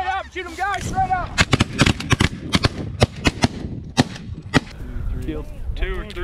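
Loud, sharp shotgun blasts fired at a flock of snow geese during a hunt, about a dozen rapid overlapping shots in a burst, with excited voices shouting before and after and goose calls in the background.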